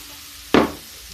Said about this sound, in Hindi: ये देखिए अभी मसालों के साथ ही आलू गोभी हम भून देंगे।